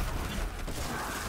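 Weapon reload in Destiny 2, a short mechanical clatter of creaking, ratcheting parts lasting about a second, loud and close.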